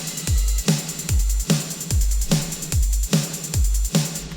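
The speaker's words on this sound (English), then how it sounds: "So overall the drums sound like this." A programmed drum mix from the MT Power Drum Kit 2 plugin, recreating a synthwave track: punchy kicks and cracking snares in a steady driving beat under a constant ticking hi-hat, loud and close.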